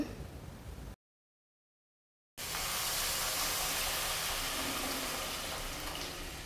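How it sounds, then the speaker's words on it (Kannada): Kesari rava, semolina with softened vegetables, fries in a hot pan with a dense, even sizzle. It cuts out briefly, then returns louder and steadier, close by with no talking. "ನಾನು ಇದನ್ನು ಇವಾಗ ಫ್ರೈ ಮಾಡ್ಕೊತಾ ಇದ್ದೇನೆ"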